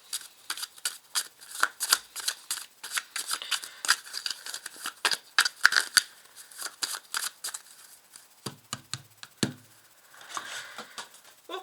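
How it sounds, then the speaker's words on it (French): A deck of 32 playing cards shuffled by hand at close range, with rapid, crisp riffling and slapping bursts repeating in quick runs, no talking. "on rajoutera le jeu de 32 cartes, que je vais d'ailleurs remuer"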